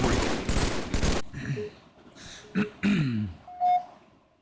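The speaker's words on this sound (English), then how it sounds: "I didn't really need to clear my throat, I just did it for fun." A person clears their throat in a few short, rough bursts, following a loud rattle of rapid gunfire that cuts off abruptly.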